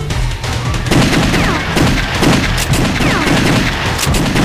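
Rapid arcade gunfire from House of the Dead 2 rattles loudly and almost without pause, a dense stream of electronic shots with sharp bursts layered over each other.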